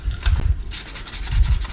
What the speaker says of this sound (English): I also use a sanding block.